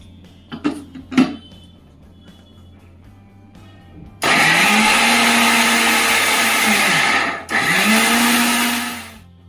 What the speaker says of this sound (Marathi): आता ह्याला बारीक ग्राइंड करून घेऊ.